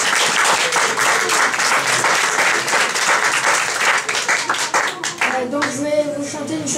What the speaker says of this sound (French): je vous demande d'acclamer Pierre-Louis